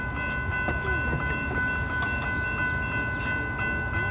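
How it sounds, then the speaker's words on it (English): A train rumbles past nearby at the D Street railroad crossing in Encinitas, California, a steady loud roar with clattering wheels and a sustained high tonal ring over it. "This is a train that we might be taking."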